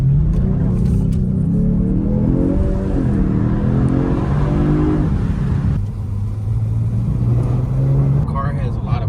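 A V6 in a Genesis G70 with about 9,000 miles, 2023 or 2025 model, revs hard with a rumbling, barking note that rises and falls, loud and close, with a brief dip before climbing again.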